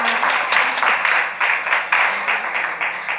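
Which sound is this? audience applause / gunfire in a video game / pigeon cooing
audience applause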